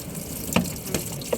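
Tap water runs into a sink in a steady, close splash, with a few small drips and knocks on top, and no voices.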